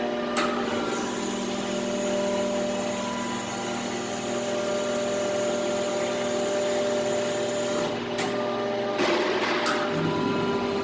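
An Apex 15-ton pull-style broaching machine with a 72-inch stroke runs a full cycle, a steady hydraulic whine and hum with clanking thumps near the end.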